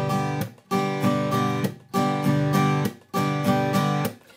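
Acoustic guitar strummed in a percussive pattern meant to mimic a snare drum, with chords ringing in repeated bursts and subtle string-tap accents marking the backbeat, close and clear with no talking.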